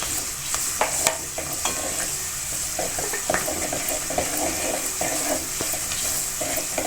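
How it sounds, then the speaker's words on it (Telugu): Ginger garlic paste sizzles and fries steadily in hot oil for a Telangana fish pulusu, close up and loud, with scattered spoon stirs and scraping clicks against the pan throughout. "కొంచెం అల్లం వెల్లిగడ్డ పేస్ట్, వేసి వేయించాలి."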